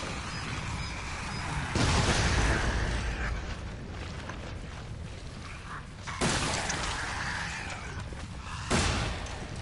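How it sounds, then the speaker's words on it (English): Remote bombs detonating in Resident Evil 7, three loud broadband blasts spaced a few seconds apart over a dense, rumbling game soundscape with no talk. "But I'm going to use the remote bombs."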